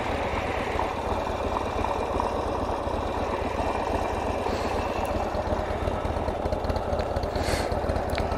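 A stock Harley-Davidson XR1200 motorcycle with its factory exhaust pipes idling steadily close by, a continuous low rumbling drone with vibration that holds even and unbroken throughout.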